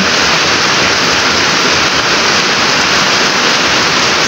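Steady, dense rain pours down without break, a loud broadband wash close by with no distinct drops standing out and no voices.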